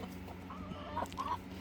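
A backyard chicken clucks after eating a hornworm, making a few soft, close clucks and short squawks in quick succession over low outdoor background noise.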